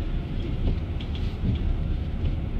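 A car driving through snowy streets in Istanbul, heard as a steady low road and engine rumble with a broad hiss of tyres on snow throughout, no voices.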